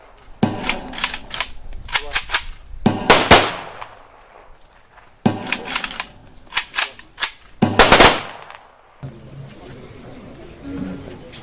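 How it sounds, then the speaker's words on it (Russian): Triple rifle volley salute at a memorial ceremony: two sharp, loud gunfire bursts with crackling echoes, followed by quieter outdoor ambience, with no talking. "Прозвучал троекратный залп"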